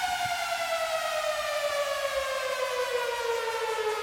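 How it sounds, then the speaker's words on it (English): A sustained, bright Repro synthesizer tone that slowly glides downward in pitch, steady and loud throughout, with no voices. "I just put the sound together on this Repro synth."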